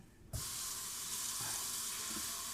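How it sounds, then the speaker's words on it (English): Water from a kitchen faucet rushes into an iron skillet to rinse off scrubbing salt, starting abruptly after a short quiet moment and then running steadily and close, with small splashes and knocks against the pan. "I'm gonna rinse it off, get that salt out, wash it out on the outside as well"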